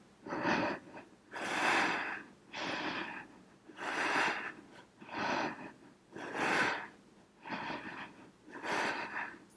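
Rhythmic breathing during a yoga flow, with strong breaths in and out alternating about every second in a steady, close, loud cycle, and no talk over them.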